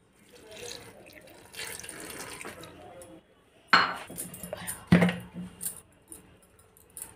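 A little water is poured into a grinder jar with cumin, chopped tomato and rock salt for chutney, a couple of short, close splashing pours mixed with clinks of utensils against a quiet kitchen background.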